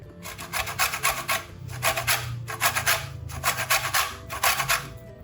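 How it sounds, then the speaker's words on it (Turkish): Lemon zest grated on the fine side of a metal grater, a rhythmic series of scraping rasps in quick bursts, close and fairly quiet with no talking. "rendenin ince tarafıyla rendeliyorum"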